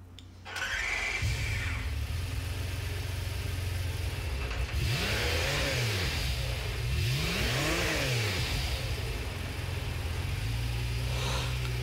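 A McLaren F1 car engine in Gran Turismo Sport on PS4 Pro starts and revs repeatedly, rising and falling in pitch with a steady idle underneath.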